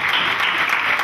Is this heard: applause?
yes